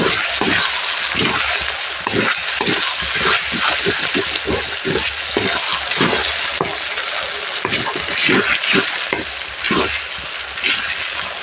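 Large tomatoes sautéing in a pan of biryani base, a loud, steady sizzle with rhythmic stirring strokes and scrapes repeating throughout, close up and with no talking.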